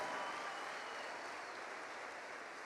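A church congregation applauds steadily at moderate loudness, a continuous wash of clapping with no distinct pauses.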